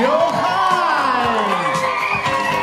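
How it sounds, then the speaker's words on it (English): An audience at a bar mitzvah gala cheers, with loud whoops and shouts mixed into a crowd roar; applause is not clearly distinct beneath the voices. "So please, let's give a round of applause for our counselors."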